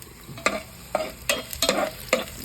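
Garlic sautéing in a pan for squid adobo, heard as soft sizzling with several sharp scraping stir strokes at an irregular, unhurried rhythm, close up and with no talk.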